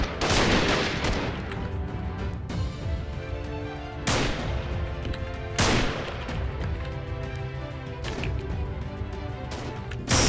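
Gunfire in the Freeman: Guerrilla Warfare video game, several loud sharp shots at irregular intervals over a busy background of more distant fire.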